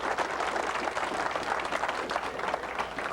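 Audience applause at a 1996 lecture on cold fusion, steady dense clapping from a crowd that fills the whole moment at moderate loudness.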